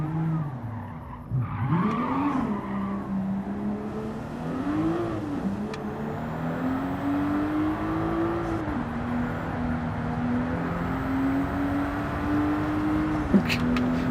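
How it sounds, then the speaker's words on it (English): A Toyota Supra in a racing video game, engine droning and rising and falling through gear changes with tire squeal and skidding throughout, loud and close, with brief exclamations from a player. "I'm trying to run this Toyota Supra and not doing very well."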